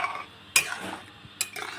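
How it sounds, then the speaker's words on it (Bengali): Fried spice mix is stirred into a pot of potato curry, with two sharp scrapes of a spoon against the pot separated by quieter rustling of the thick gravy. Nobody speaks. "আমি এবার ভাজা মশলাটা ছিটিয়ে দিই। ভাজা মশলা দিয়ে নেড়ে নেব।"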